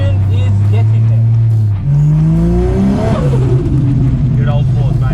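Turbocharged Holden VY race car accelerating hard, its loud engine note climbing through gears with rising tones and a brief dip at a shift, close and steady throughout, with a voice speaking over it.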